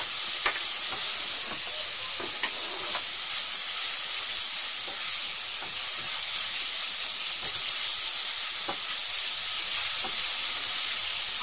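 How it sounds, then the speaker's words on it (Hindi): Ginger garlic paste frying in a pan for a winter surma fish gravy, a steady bright sizzle with faint stirring scrapes and small crackles scattered throughout, close and continuous. "इसके बाद में हम अपना जिंजर गार्लिक पेस्ट ऐड कर देंगे इसमें। इसे भी अच्छे से भूनने देंगे।"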